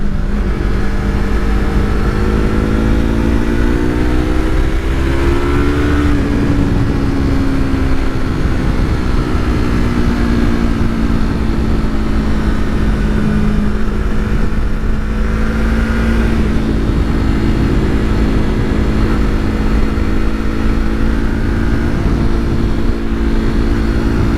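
A Yamaha R3 motorcycle engine drones steadily and loudly while riding on a road, its pitch rising and falling with throttle changes, joined by heavy wind rush.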